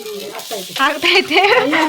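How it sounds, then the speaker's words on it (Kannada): Fish frying in a home kitchen pan gives a steady sizzle with stirring scrapes, with a voice talking over it throughout. "ನಮ್ಮ ಮೀನ್ ಫ್ರೈ ಆಗ್ತೈತೆ"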